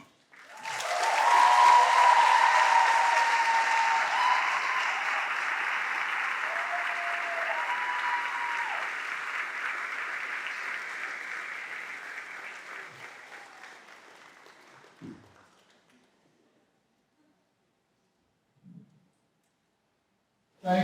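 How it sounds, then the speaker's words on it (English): Audience applause at a senior class day ceremony, loud sustained clapping that peaks early, slowly fades over about fifteen seconds, then gives way to near silence broken by a few faint knocks. "once again, a round of applause for all our seniors"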